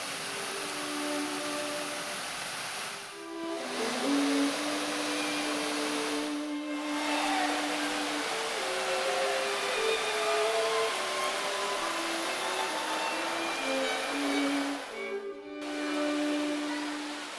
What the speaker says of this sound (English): The powerful churning rapids of Cedar Falls were utilized for a mill